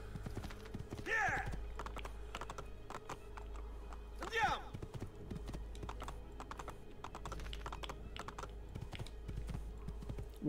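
A horse's hooves clip-clop at a steady pace in the video game Assassin's Creed II, with brief whinny-like calls, faint and under a background bed and keyboard-like clicks.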